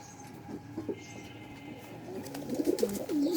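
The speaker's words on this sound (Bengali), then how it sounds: "এই যে কবুতরটাকে ভেতর থেকে দেখাই আপনাদের, এই দেখেন এই একটা নর ধরা পড়ছে" A male Giribaj pigeon cooing close by, soft low throaty coos growing busier toward the end over a quiet background.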